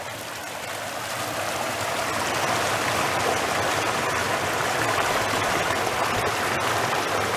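A steady, full rush of the west branch of Barney's River fills the scene, close and loud, building slightly at the start and then holding constant.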